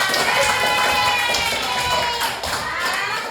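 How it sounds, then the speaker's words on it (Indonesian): A classroom of students clapping together at the end of a lesson, a dense, steady patter of many hands that carries on across the whole stretch and eases slightly near the end. "Oke, tepuk tangan."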